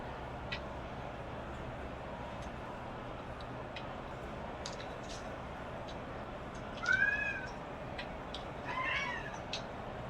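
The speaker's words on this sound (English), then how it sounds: "This cat is bugging." A cat lets out a couple of faint meows, one around the middle and a softer one shortly after, over a low steady background hum with scattered small ticks.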